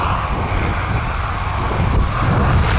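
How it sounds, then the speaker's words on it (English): Jazz airliner taking off at Toronto Pearson airport, a loud, steady broadband engine roar that fills the whole stretch without letup, close and powerful, with no voices over it. "Jazz 431 cleared for takeoff to Timmins."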